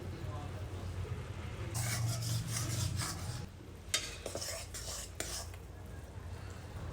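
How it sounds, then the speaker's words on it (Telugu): Sugar syrup for coconut Mysore pak is stirred in a pan, with soft continuous scraping and rubbing plus a faint simmering hiss, a voice speaking quietly over it. "షుగర్ నీళ్ళంతా కలుపుతూ తిప్పుతూ ఉండాలండి"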